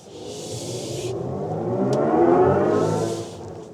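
An electric SUV's artificial driving sound, a synthetic whirring drone that rises and falls in pitch like a motor tone, swelling in loudness, with airy hiss at the start and end.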